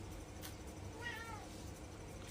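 A house cat gives a single short meow over quiet room tone, soft and fairly close.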